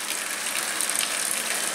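Boiling hot water poured over tamarind seeds, a steady close hissing rush of liquid lasting under two seconds.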